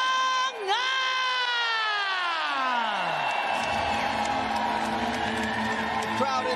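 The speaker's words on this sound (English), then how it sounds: "The crowd inside this iconic Lumpini Boxing Stadium going wild." A crowd at Lumpini Boxing Stadium erupts after a Muay Thai knockout, with a falling whistle-like tone sweeping down through the opening seconds before giving way to a continuous roar of loud cheering and whooping.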